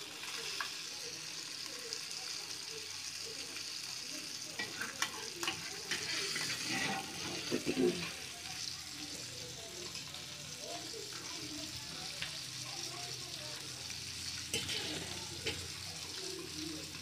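Fish frying in a pan, with a faint steady sizzle carrying on throughout and occasional soft scrapes of a spatula, somewhat distant with a light wash of background noise.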